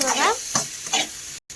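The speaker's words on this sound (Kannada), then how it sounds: "ಈಗ ಉಪ್ಪು ಹಾಕೊಂಡಿದ್ದು ಕಲಿಸ್ಕೊಳ್ಳೋಣ ಫ್ರೆಂಡ್ಸ್" Raw mango and onion sizzle in a hot pan as they are stirred after salt goes in, with a few close scraping strokes of the spoon and steady frying hiss underneath.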